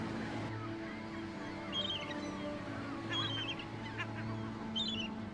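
Yellow-legged gulls call at a sea-cliff colony, short bursts of high, nasal cries repeating at intervals over a low, steady background murmur.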